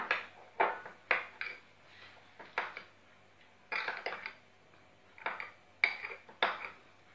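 A utensil scrapes and clinks against a bowl in repeated bursts while mixing chocolate with yogurt, close by and fairly quiet, with no talking.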